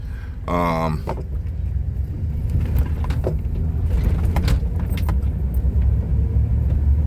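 Steady engine and road rumble from a car driving through Tucumcari, New Mexico, a town on Route 66, holds throughout at a constant level, with a brief sharp chime-like tone near the start.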